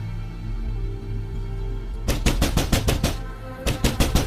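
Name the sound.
banging on a door, cartoon sound effect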